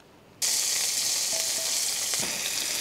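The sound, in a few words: chopped onion frying in hot oil in a pan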